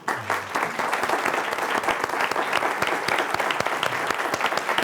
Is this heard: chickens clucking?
no